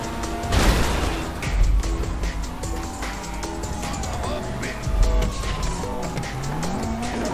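A getaway car in a bank-robbery video game races fast with repeated tire squeals and a revving engine, loud and close throughout, with people talking and shouting over it.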